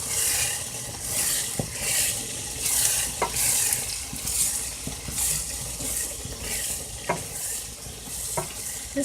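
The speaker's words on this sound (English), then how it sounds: "leave it to cook for a little bit before I come back and stir it in" Sardine and vegetable mixture simmering in a pot for an angwamu combo dish, with a steady bubbling sizzle and a few sharp scrapes of a spoon stirring through it, close and continuous with no talking.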